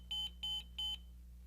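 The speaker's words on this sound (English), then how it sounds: "All units will beep 4 times, indicating they have passed the power on self-test." An M Series monitor-defibrillator running its power-on self-test gives three identical high electronic beeps at an even pace, clear and close over a low steady hum.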